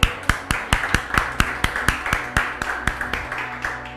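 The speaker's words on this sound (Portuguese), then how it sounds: "Vou dar salve de palmas para Jesus." Steady rhythmic hand clapping in praise of Jesus during a spiritual warfare church lesson, about fourteen sharp claps at an even beat, close and fairly loud, with no talking over them.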